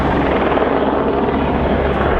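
News helicopter overhead, a continuous loud rotor roar with no voices over it.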